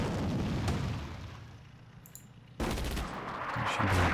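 Artillery and gunfire in the Attack at Dawn: North Africa war strategy game, a rumbling barrage with a faint crack midway, then a sudden louder burst of firing that continues to the end.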